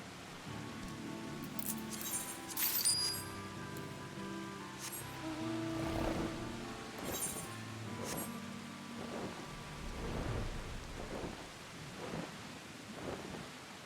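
Faint rain and occasional thunder rumbles in Final Fantasy XIV, low patter beneath soft game chimes and tones, with several quiet swells spread through the stretch.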